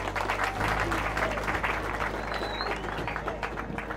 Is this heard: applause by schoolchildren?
yes